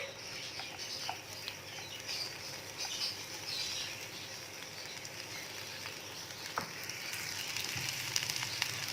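Onions sizzle and crackle steadily as they fry in ghee in a pan, with occasional light stirring scrapes.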